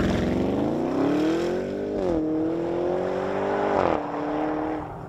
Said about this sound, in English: Instant torque off the line with the electric motors and a twin-turbo V8 chaser.